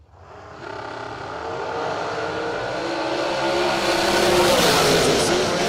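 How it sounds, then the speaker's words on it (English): A Chevrolet drag racing car accelerates hard through the finish line at a drag strip, its engine roaring loudly and steadily building over several seconds. "Right side, whacking the throttle at the finish line."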